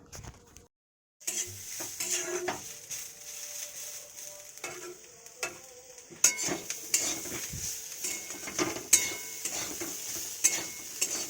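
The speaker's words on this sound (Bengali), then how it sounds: "সব রকম শীতে সব রকম সবজি দিয়ে তো একটা মানে ভাজা ভাজা চচ্চড়ি মতো করছি" Mixed winter vegetables stir-fried for a Bengali chorchori, with steady sizzling in the pan and repeated scraping and clinking of a spatula against metal, close and moderately loud.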